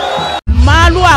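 A crowd outside an airport in Katanga greets a presidential couple with loud, close whoops, yells and babble that break off briefly, then surge back as a sustained roar of shouting voices.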